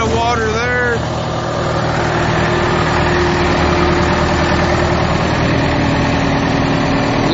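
A 2002 Finn T330 hydroseeder's engine idles steadily and continuously at close range, with a brief higher warble at the start and a voice talking over the running engine.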